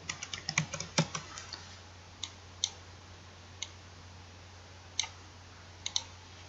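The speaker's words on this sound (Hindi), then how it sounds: "इसमें कुछ डेटा थोड़ा सा एंटर करते हैं।" Data being entered on a computer keyboard into a spreadsheet: a quick burst of keystrokes, then scattered single clicks with pauses between, close and fairly quiet over a low steady hum.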